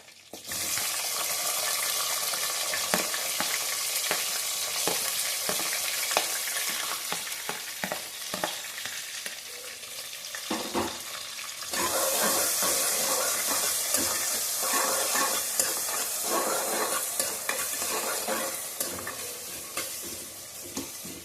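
Chopped onions frying in a pan for coriander mint rice pulao, a loud close sizzle with repeated scraping and stirring strokes throughout, and a brief stretch of running water in the middle.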